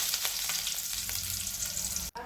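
Curry leaves frying in hot tempering oil in a kadhai, a dense steady sizzle close by with faint stirring, ending in an abrupt cut.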